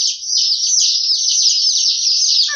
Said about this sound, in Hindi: बहुत प्यारे चूजे हैं